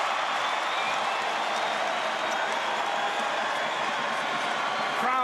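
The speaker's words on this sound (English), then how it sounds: "Crowd getting involved at the BK Arena." A big arena crowd at the BK Arena in Kigali roars and claps steadily during a 2023 BAL basketball game between Al Ahly and Stade Malien, a dense, continuous wash of cheering with scattered whistles.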